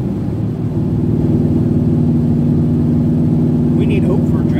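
Dodge Dart with a four-speed manual transmission droning steadily at a constant engine note while driving, a close, loud in-cabin hum with no revving.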